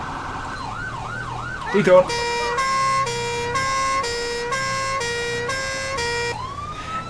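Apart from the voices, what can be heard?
two-tone emergency siren from Siren Mastery mod, video game GTA V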